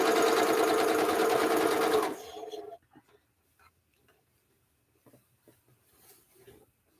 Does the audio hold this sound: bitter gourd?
no